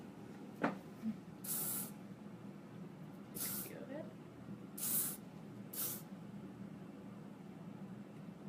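Hairspray is sprayed onto styled hair in four short hissing bursts spaced a second or two apart, close and fairly loud, while someone talks quietly.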